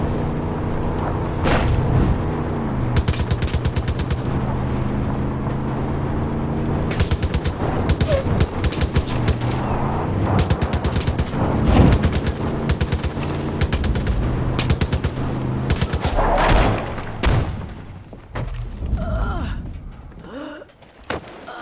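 Sustained automatic gunfire in Far Cry 5 pours into a crowd in long, dense bursts with short gaps, loud and continuous across the whole stretch, with occasional booms and screams mixed in.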